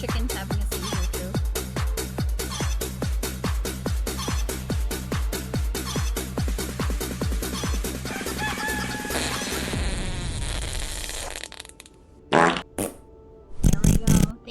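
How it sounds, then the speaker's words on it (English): Comic fart sound alerts repeat in a fast, loud, rhythmic string mixed with chicken clucks, then trail off into a few scattered bursts. "I appreciate you for all the farts."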